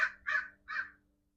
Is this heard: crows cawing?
yes